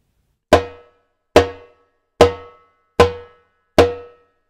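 Timbal slap struck with the fingertips on the drumhead: five sharp, ringing, evenly spaced hits with fast decay, close and loud, played alone.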